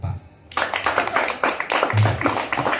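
A church audience breaks into clapping after a moment of quiet, quick rhythmic hand claps with a speaker's voice heard over them.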